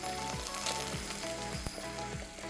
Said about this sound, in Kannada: ಅದನ್ನ ಫ್ರೈ ಮಾಡಿ ಎಣ್ಣೆಯಲ್ಲಿ.